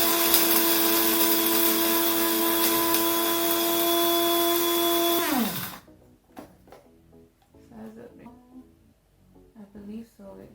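An electric grinder whirs loudly on coffee beans for pour-over, a steady high motor whine for several seconds that winds down, then a person talks quietly nearby.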